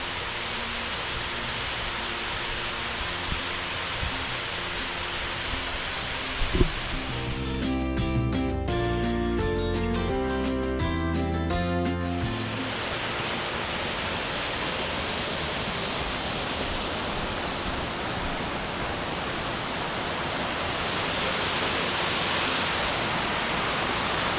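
Waterfalls in Pennsylvania's Grand Canyon give a steady, even rush of falling water throughout, with a short passage of musical tones in the middle.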